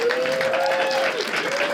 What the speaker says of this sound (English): See, listen to them cheer for you.